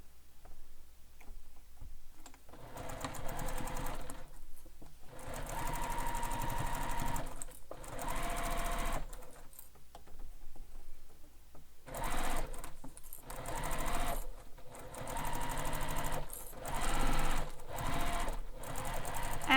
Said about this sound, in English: Now we're going to sew this here along the bottom across the whole base